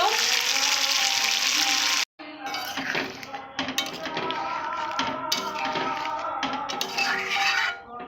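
Meat being sautéed in oil in a pan for a Malabar spinach (pui shak) curry: a loud, steady sizzle for about two seconds, a brief break, then continued sizzling mixed with scraping and clinking of a utensil against the pan.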